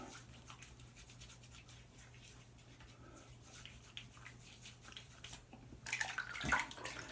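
Running water from a tap rinses an open comb razor during a shave, a steady faint hiss with a louder splashing burst near the end, no talking.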